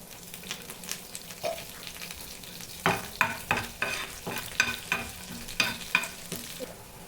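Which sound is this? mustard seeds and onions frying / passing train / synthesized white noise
mustard seeds and onions frying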